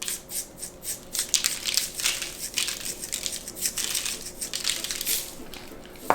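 Sugar decorations pour onto the top of a hot chocolate bomb, a close, crisp stream of tiny crackling and pattering grains that rises and falls in irregular bursts for several seconds.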